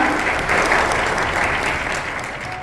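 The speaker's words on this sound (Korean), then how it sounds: "전문가님께 큰 박수 부탁드립니다" Dense, continuous applause fills a ceremony hall as an audience claps warmly for an honored guest, a steady even roar of many hands close by throughout.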